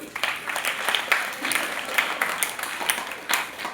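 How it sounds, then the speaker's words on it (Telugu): A school audience claps in a scattered, lively burst of applause at a Republic Day yoga display, with a few voices heard beneath the clapping at moderate distance. "అందరు గట్టిగా క్లాప్స్ కొట్టాలి"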